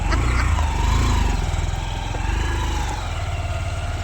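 A motorcycle ridden by a husband with his wife on the way to a village fair, its engine droning loud and steady with a low rumbling throb throughout, close by and continuous.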